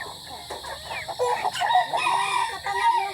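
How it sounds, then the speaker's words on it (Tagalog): Hungry chickens crowd around at feeding time, with steady clucking and chatter from several birds close by and a rooster's crow rising over the flock. "Grabe, gutom na yung mga manok natin"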